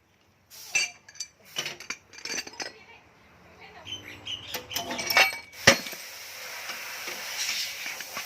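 A metal tool pries a part out of a Honda PCX scooter crankshaft, giving sharp metallic clinks and scraping taps at irregular intervals, close and fairly loud, with someone talking between them.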